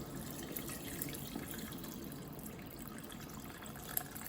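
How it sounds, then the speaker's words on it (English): Water runs steadily into a soup pot for Italian-style chicken broth, a faint continuous pouring and splashing with no talk over it. "we're just going to add the water to make the broth now"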